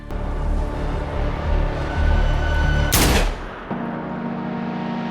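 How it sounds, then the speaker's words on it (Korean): A gunshot headshot in a John Wick action film scene: a single loud, sharp blast cuts through a dense, ongoing score and ambience, followed by a lower, quieter hum of sound. "마무리는 존의 깔끔한 헤드샷"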